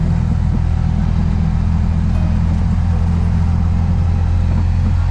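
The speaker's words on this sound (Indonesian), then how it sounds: "lebih padat truk-truk yang melintas." Heavy traffic on the Pantura highway with trucks passing, a dense, constant low rumble of engines and tires that stays loud and unbroken without distinct individual pass-bys.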